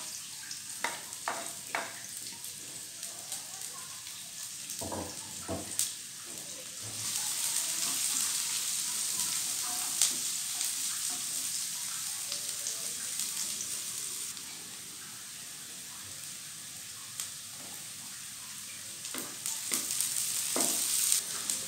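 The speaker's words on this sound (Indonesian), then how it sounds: "Sekarang kita mulai tumis bumbu-bumbunya ya" Spice paste and onions sauté in a pan with a continuous hissing sizzle, rising louder midway then easing, with occasional stirring clicks and scrapes and no talk.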